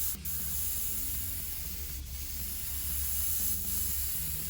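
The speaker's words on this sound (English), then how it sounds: "if you were to paint your diecast car and you had to get a little bit of a wide spray" Close, continuous hiss of an AMMO Air Cobra airbrush spraying paint in a wide pattern, with brief pulses where the airflow surges, over a faint low hum.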